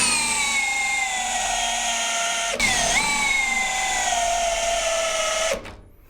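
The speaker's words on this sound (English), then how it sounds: "So it's on normal drill." Worx cordless Slammer drill running in normal drill mode, a steady high-pitched motor whine that dips briefly under load midway, then stops abruptly near the end.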